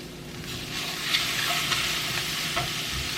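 Pineapple sizzles and fries in a hot pan with a steady, close hiss, broken by a few stirring scrapes and clinks as peas and carrots go in.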